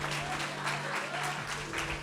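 A church congregation applauding, a steady wash of clapping from many hands that fills the whole moment without pause.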